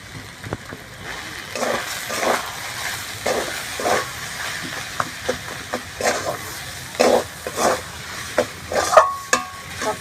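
A katla fish cutlet mixture of grated potato, pepper powder, fried spices and breadcrumbs is mixed by hand in a bowl, giving soft, squelchy, rhythmic mashing strokes up close that repeat every second or so.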